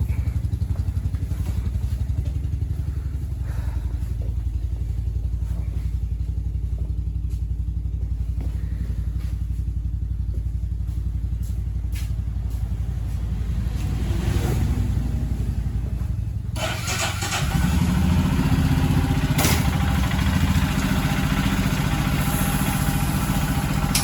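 A Royal Enfield Himalayan motorcycle engine runs steadily in Leh, Ladakh, with a low rumbling throb throughout, growing slightly louder and rougher near the end as if revving.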